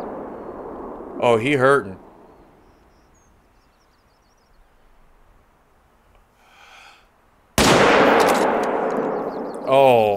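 Rifle shots at a moose in The Hunter: Call of the Wild, with a sharp loud report near the start, a quiet stretch, then a second heavy blast and echoing tail, with brief speech between.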